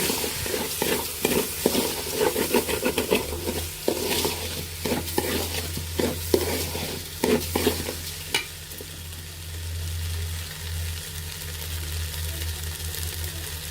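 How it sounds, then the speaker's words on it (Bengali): Polao rice, a kilogram of it for chicken biryani, is fried and stirred in a pan, giving a steady sizzle with repeated scraping strokes and a low hum underneath, alone without speech. "এখন আমরা ভালোভাবে পোলাওগুলো ভেজে নেব"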